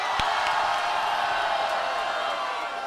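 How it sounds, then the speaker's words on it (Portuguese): A large crowd at an outdoor rap battle roars and cheers in a dense, steady wash of noise, with a sharp clap or whoop near the start. "mão pra cima e muito barulho, Medusa"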